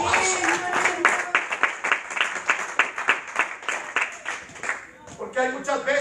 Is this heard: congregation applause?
yes